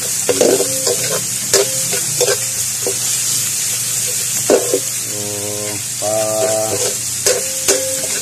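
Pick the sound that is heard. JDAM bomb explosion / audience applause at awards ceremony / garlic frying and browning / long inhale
garlic frying and browning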